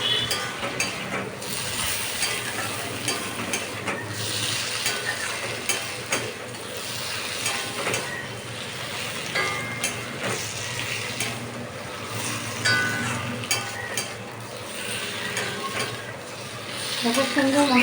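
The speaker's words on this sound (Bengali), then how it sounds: "এবার আমি সয়াবিনগুলো ছেড়ে দিলাম। দিয়ে এবার আমি কষিয়ে নেবো" Soybeans are sautéed with spices in a pan for a potato, papaya and soybean curry, giving a steady sizzle broken by repeated scraping and clinking strokes of a spatula against the metal.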